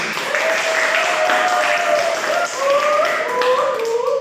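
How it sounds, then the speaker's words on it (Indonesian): Classroom applause for a group presentation: a dense, steady patter of many hands clapping for several seconds, with faint voices and whistle-like tones rising over it. "Silakan beri aplaus terlebih dahulu."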